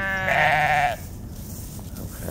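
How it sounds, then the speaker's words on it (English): A lamb on a sheep farm gives one loud, wavering bleat close by, then the pen goes quiet apart from faint rustling and a hint of another bleat at the end. "all kinds of lambs."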